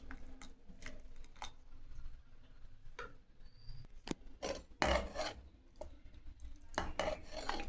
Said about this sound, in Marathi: याला रवीच्या साह्यानं गरगटून घेऊया.